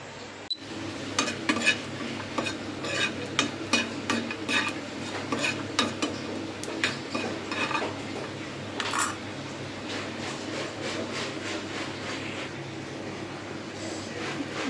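Bombil (Bombay duck) fish frying in oil with salt and spices, a soft steady sizzle with frequent light metallic taps and scrapes of utensils on the pan, close and without talk.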